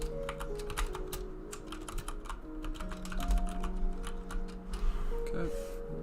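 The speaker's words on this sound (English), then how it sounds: "Sorry if this keyboard is loud." Computer keyboard keys clatter in quick irregular bursts, close and fairly quiet, with steady background hum underneath and a brief pause before typing resumes.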